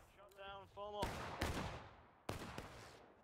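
Musket volleys in the Civil War game War of Rights at Burnside Bridge, a loud crackling burst of shots followed by a second volley, with voices calling out over the firing.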